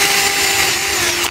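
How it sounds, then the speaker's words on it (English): Power drill boring a hole in wood for a guitar painting jig, a loud steady high whine that lasts just over a second and then cuts off. "the next step I'm going to do is drill two holes in both sides of these for the uprights"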